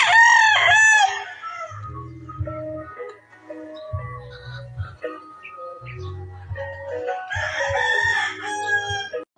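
Several roosters crow loudly and close at a farmyard in Cavite, Philippines, with hens clucking between the calls.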